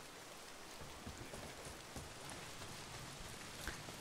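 Steady rain in the video game Days Gone patters densely across surfaces, a constant fizzing wash of drops at moderate distance with no other sounds standing out.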